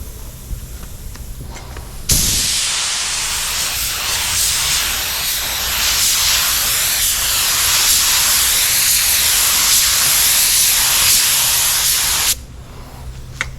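Spray gun laying a light coat of 2K clear over Hunter Green Rust-oleum paint with gold pearl, a loud continuous hiss that starts abruptly, holds steady for about ten seconds, then cuts off sharply.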